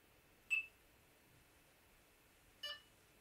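Delkim fishing bite alarm giving two short electronic beeps about two seconds apart, faint and isolated against near silence.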